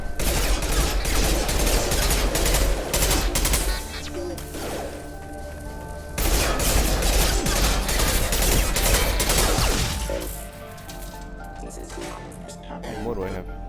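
Gunfire in Mass Effect Legendary Edition, loud sustained bursts of rapid shots with crashing impacts across most of the stretch, easing off briefly midway and near the end.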